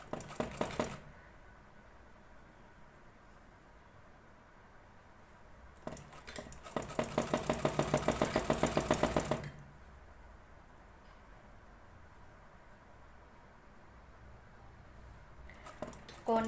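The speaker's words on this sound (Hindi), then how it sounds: "किनारे पे सिलाई लगाते हुए" A sewing machine stitches along the edge of a piece of cloth in a short burst of rapid, rhythmic needle clatter in the middle, with brief starts at the beginning and end and quiet between.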